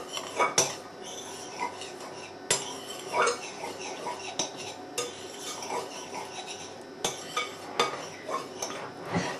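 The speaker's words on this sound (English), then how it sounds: "I'm going to add the sugar and just stir it in with a knife." A knife stirring sugar into sweet scone mixture in a bowl gives irregular clinks and scrapes against the dish, moderately close, with sharp taps scattered across a soft rustling background and no talk.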